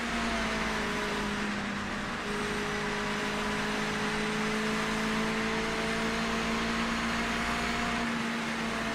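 Steady engine drone from a race car in Project Motor Racing, overlaid with a crackly static-like hiss, holding an even level for several seconds with a slight shift partway through and no voices.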